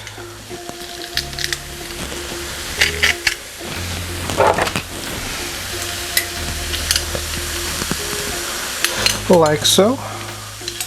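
Two garlic cloves fry and get stirred in a pan, a steady sizzle with scraping stirs and a few utensil clinks throughout, while a voice talks briefly and soft tonal hums sit underneath.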